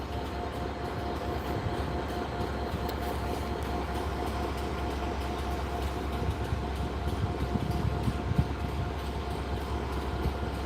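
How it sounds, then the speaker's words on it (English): A Class 67 locomotive on a railhead treatment train rumbles past steadily with a low continuous roar and faint rhythmic rail clatter, heard from nearby without speech. "these Class 67 locomotives are on railhead treatment train duties"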